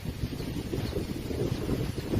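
Strong wind blowing outdoors during a storm, a continuous low rushing roar that buffets the microphone with uneven gusts, no voices.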